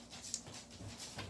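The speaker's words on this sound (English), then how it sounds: "here comes my other dog" A dog whimpers softly and pants nearby in a kitchen, brief faint whines and breathy huffs at close range.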